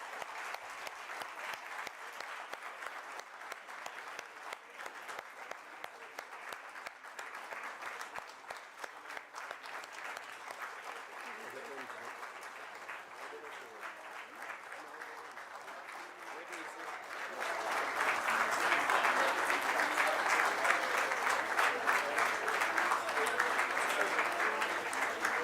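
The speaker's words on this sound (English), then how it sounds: "Keep clapping, clapping." Audience clapping at a public lecture, held up at a steady moderate level and then swelling noticeably louder toward the end, with the sound of a large room around it and no voices cutting through.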